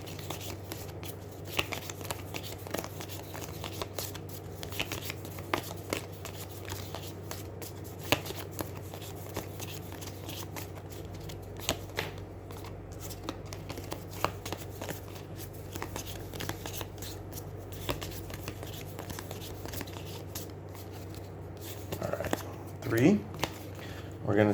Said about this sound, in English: Shuffle got a little funky there.